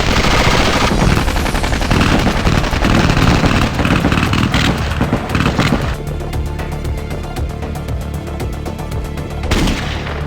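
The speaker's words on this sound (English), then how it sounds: "Open fire." Gunfire in a Lego animation: loud, dense bursts of rapid automatic shots and heavy blasts fill the first half, followed by a steadier, slightly quieter rattle of fire that continues almost to the end.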